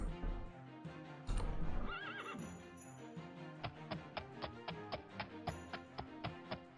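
A horse in the Daggerfall Unity video game whinnies loudly near the start, then its hooves clip-clop in a steady, evenly spaced rhythm, close and distinct against a quiet backdrop.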